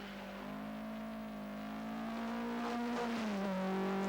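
A 1981 rally car on race suspension, low-profile near-race tyres and a low stance drives a road section, its engine a steady loud drone that rises and shifts pitch as it accelerates and changes gear, with no voices.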